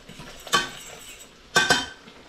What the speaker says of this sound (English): Give this a nice stir, make sure that it's simmering.